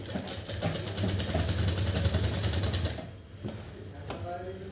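A sewing machine runs steadily stitching a folded shirt hem, a close rapid whirring hum that slows and stops partway, followed by quieter handling sounds.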